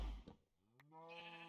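A single Minecraft sheep bleats once, a short wavering nasal cry heard clearly and close after a brief soft thump, with nothing else over it.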